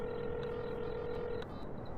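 A telephone in a Roblox horror game gives a steady electronic dialing tone for over a second, then short beeping keypad tones follow, heard alone with no talk.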